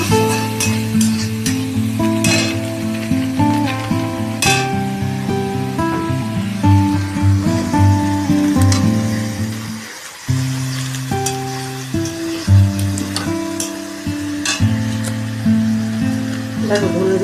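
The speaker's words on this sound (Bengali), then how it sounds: "ভালো করে আমি মশলাটা ভাজবো" Spice paste frying in oil in a pan for a potato, pointed gourd and soya curry, a steady close sizzle beneath sustained musical tones, briefly dropping near the middle before carrying on.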